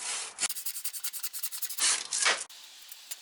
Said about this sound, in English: so I'm using a handsaw